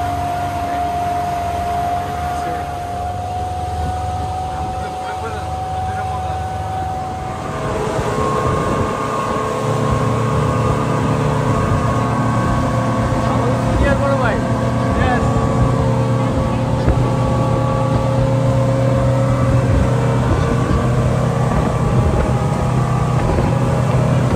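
A speedboat runs out toward Coral Island off Pattaya, its engine a loud, continuous drone with water rush that swells and holds steady after the first few seconds, with a voice talking over it.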